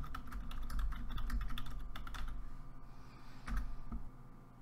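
Password keys tapped on a computer keyboard at a login screen, a rapid run of light clicks for about four seconds with a short pause and a final few presses, close and fairly quiet over a low steady hum.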